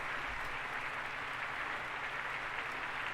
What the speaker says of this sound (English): kissed her lover to raucous applause